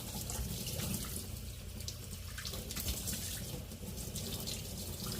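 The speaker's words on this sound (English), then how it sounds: "So I'm just washing it super good. I'm going to rinse it really well." Steady running water from a kitchen sink tap as a cast iron pan is rinsed, a continuous close splashing wash with slight swells throughout and no talking.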